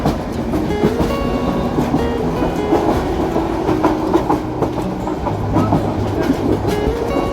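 A passenger express train rumbles over the Tongi railway bridge across the Turag river, near and loud, with rhythmic clickety-clack of the wheels and steady metallic rolling, no voices.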